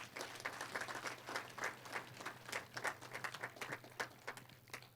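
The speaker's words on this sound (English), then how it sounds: "Let's clap for the guardians." Graduation ceremony crowd applauding the guardians, a distant, fairly faint wash of many hands clapping in an uneven, continuous rhythm, with no talk.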